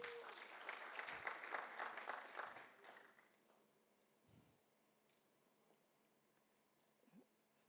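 A church congregation at a Sunday service applauds for about three seconds, a dense burst of clapping that fades out, followed by quiet room noise with a few faint breaths and small movements.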